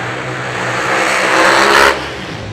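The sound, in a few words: drag racing car engine revving at the racetrack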